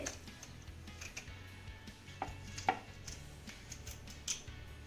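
A knife cuts a bitter gourd in half on a board, giving a few soft, faint taps and one sharper chop, spaced irregularly against a quiet kitchen background.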